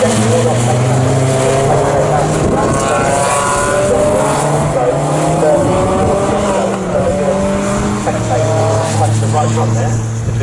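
Honda Civic race cars lap the Snetterton circuit in a trackday trophy race, engines droning and shifting pitch steadily throughout while a commentator talks over them.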